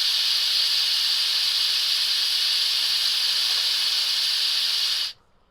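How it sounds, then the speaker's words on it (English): Steam hisses loud and steady from a fifty-year-old Vesuviana cappuccino maker, a continuous bright rush that runs for about five seconds before cutting off abruptly into quiet. "Wow, that has some good steam on it."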